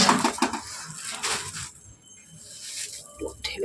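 Puffed rice (muri) is stirred in a pot, giving close dry rustling scrapes and light clinks in bursts, with someone talking through it.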